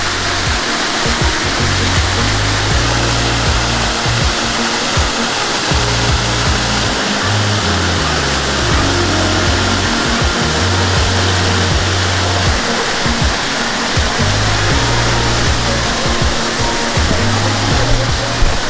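Cold waterfall in the Chapada, a loud, unbroken roar of falling water close by, steady throughout with a deep rumbling underneath.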